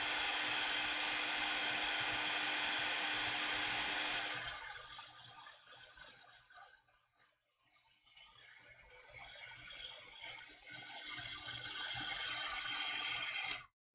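A heat tool blows steadily and loudly on a mixed media art piece, cuts out for a few seconds, then roars back on until it is switched off.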